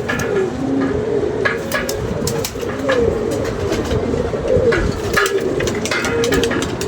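Pigeon cooing close by, repeated soft throaty coos over a steady background hiss, loud and continuous with no one speaking.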